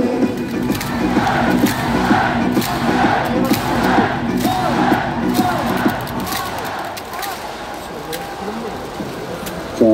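Lotte Giants baseball fans at Sajik Stadium chant in unison to rhythmic music, a loud crowd roar with repeated cheer phrases and claps over an amplified beat, fading slightly near the end.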